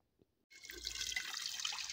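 Hot water poured into a pressure cooker, a short silence and then a steady close splashing pour that continues to the end.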